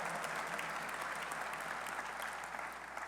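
Steady, dense applause from an audience at a university football coach's introductory press conference, a continuous wash of many hands clapping at even loudness for the whole stretch, with no voices standing out.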